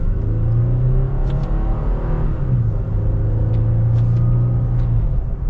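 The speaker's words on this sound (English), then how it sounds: "We are going to be getting our acceleration." A 2021 Toyota Tacoma TRD Off-Road pickup in manual shift mode accelerates hard from inside the cab, its engine droning loud and steady with audible gear changes breaking the climb in pitch.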